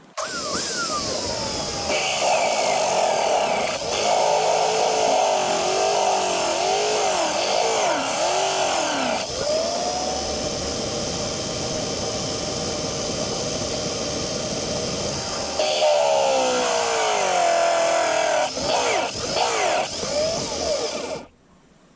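A milling machine cuts with a shorter 4-flute end mill clamped tightly in the chuck, giving a loud, steady mechanical whine that rises and falls in pitch as the cut loads and eases, with no voices.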